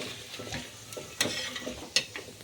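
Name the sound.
onion and whole spices frying in oil in a pan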